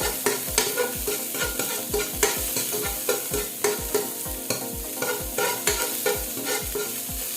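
Chopped garlic frying in a little oil in a pan, a steady sizzle punctuated by repeated rhythmic scrapes and knocks of a spoon stirring, close and clear with no talking.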